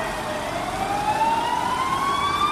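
A toy ambulance plays a continuous electronic siren tone that climbs slowly in pitch, loud and close, with no talking.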